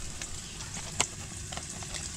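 Breaded fresh-caught fish frying in a pan on a winter ice-fishing overnight trip in a tent, giving a steady close sizzling hiss with a single sharper crackle partway through and no talking.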